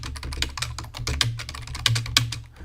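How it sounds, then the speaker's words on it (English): Rapid typing on a computer keyboard, close and crisp, with uneven bursts of clicking keystrokes over a low steady hum. "Sorry for my typing."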